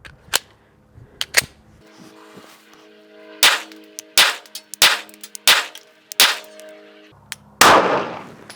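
A Glock 42 pistol fires Remington Golden Saber 102 grain hollow points in a string of about eight sharp, loud shots, spaced unevenly with brief quiet gaps between reports.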